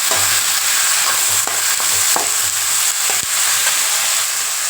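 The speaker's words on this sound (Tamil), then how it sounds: "இப்போ இது வெங்காயமும் பச்சை மொச்சும் நல்லா வதங்கட்டும்" Onions and green field beans sizzle and fry in a pan with a constant crackling hiss, broken by a few clicks of stirring.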